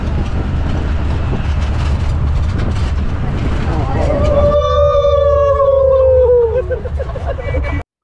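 A train rumbles steadily along near Blue Eye spring in Albania, then a loud, drawn-out squealing tone rises over the noise for a couple of seconds before fading.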